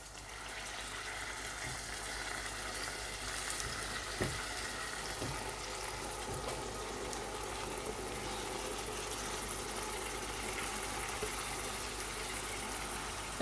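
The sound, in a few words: minced lamb keema with chopped tomatoes frying in pan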